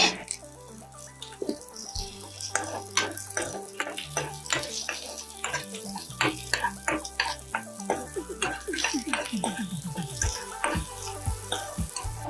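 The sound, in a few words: shallots and green chillies sautéing in hot coconut oil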